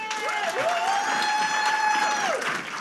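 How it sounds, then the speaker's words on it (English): Audience clapping at a talk show fills the clip at a steady, moderate level, with a sustained whistle-like tone gliding through the middle and no talk. "Let's just clap again."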